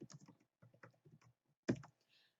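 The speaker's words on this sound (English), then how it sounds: "And then you can type your comment in there." A short burst of computer keyboard typing while entering a comment into a document, a quick cluster of clicks at close range after soft speech-like patter, ending with faint high noise.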